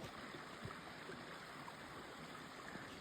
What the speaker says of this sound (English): Little creek over here.